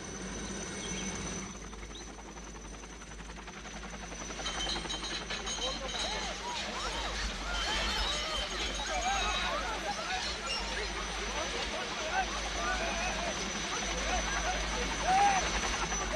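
A helicopter flies over a residential area, its steady, fairly loud rotor drone filling the scene throughout with a slight rise midway.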